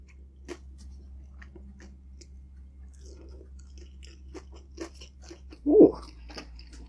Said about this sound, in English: Let's try the meat.